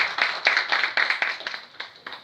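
A small audience at a book signing applauds a mentor, with distinct rhythmic claps from a few people, close and clear, gradually thinning out.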